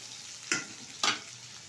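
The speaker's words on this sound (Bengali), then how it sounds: "আলুটা একটু নেড়ে চেড়ে নিয়েছি তেলের সাথে বেশ কিছুক্ষণ।" Potato pieces frying in hot oil in a pan, stirred twice, each stir bringing a short burst of louder sizzle over a steady low crackle.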